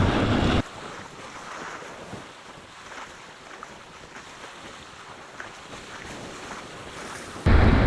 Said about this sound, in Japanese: 風が逆にこっちからこっちになってきたね。